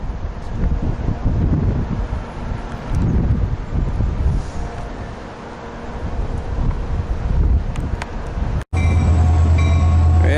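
A train on A Street by the Port of Longview rumbles along at a distance below with steady low-end noise and wind buffeting the microphone, ending in a loud, close low hum.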